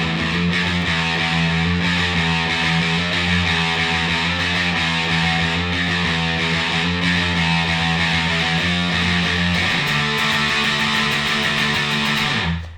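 Heavily distorted electric guitar chugs through the chorus power chords of a song, a thick continuous roar with a shift in chord near the end before cutting off.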